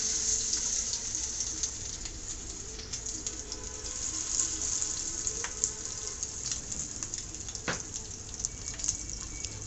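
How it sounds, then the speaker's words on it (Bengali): Rohu fish roe fries in hot oil, making a steady, moderately quiet hiss scattered with small crackles and occasional sharper pops throughout. "আমার তেলটা গরম হয়ে গেছে। এবার দিয়ে দিব ডিম। ডিমগুলো এবার ভেজে নেব।"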